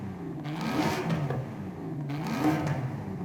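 A Cadillac racing V8 in Forza Horizon 5 revs in two rising and falling sweeps, a steady close engine roar with no talk over it.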